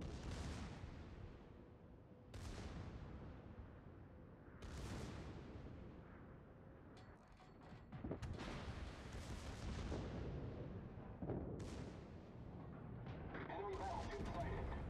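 Repeated heavy booms from a ship's secondary battery guns in World of Warships, volleys thudding every couple of seconds with rumbling tails, mixed into a busy battle soundscape with occasional voices.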